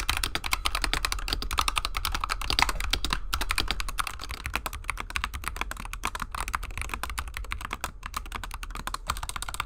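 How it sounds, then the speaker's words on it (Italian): Rapid typing on SteelSeries Apex Pro and Razer Huntsman Tournament Edition mechanical gaming keyboards, a dense run of close key clicks with no talking. "Ascoltiamo entrambe le tastiere."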